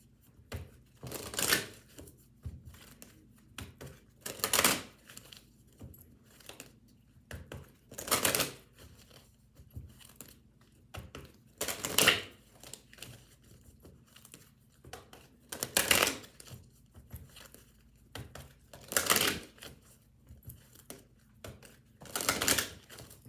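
Bursts of tarot cards being riffled and shuffled, about seven quick crackling flurries separated by pauses, close up with no talking.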